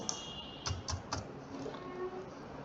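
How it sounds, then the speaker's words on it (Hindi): Password being typed on a computer keyboard during a software registration form, a handful of separate key clicks in a quick cluster, close and quiet against a steady room hiss. "अब सजेस्ट पासवर्ड में मैं यहाँ पे 1 2 3 एंटर कर रहा हूँ"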